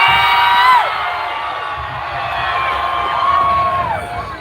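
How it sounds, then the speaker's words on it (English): Crowd at a climate strike rally in Toronto screams together, loud and sustained for several seconds with overlapping voices. "as loud as you can, we're going to scream, get all of our energy out"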